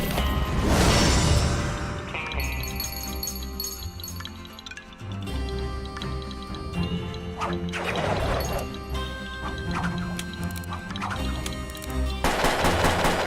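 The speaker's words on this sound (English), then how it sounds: "Five shots?" Gunshots in the video game Puppeteer ring out amid crashing impacts and busy game music, with sharp bursts at the start and end and steady clatter between, fairly loud and without speech.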